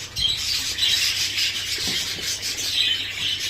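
A pet bird scratches and digs in its nest, giving a continuous close rasping and rubbing with faint chirps.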